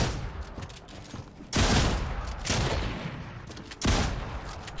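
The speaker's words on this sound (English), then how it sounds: "that AR took so long to shoot" Assault rifle fire in the video game Fortnite, three loud bursts of rapid shots roughly a second apart, each trailing off before the next, with no talking.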